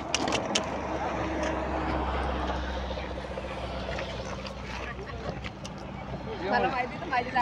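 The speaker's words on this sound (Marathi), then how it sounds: "आली आली गाडी आली." A car pulls up on a village road in the Konkan countryside, its engine rumbling low and steady for the first few seconds before easing off, with people talking over it throughout.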